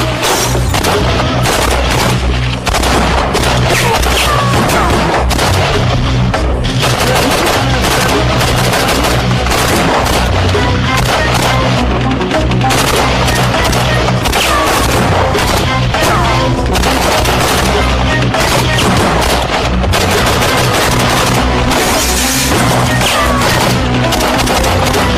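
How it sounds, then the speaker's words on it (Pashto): Gunfire sound effects fill a battle scene in a Pashto drama, with dense, continuous bursts of shots and booming blasts, loud and close, running without a break. "ډزې وکئ"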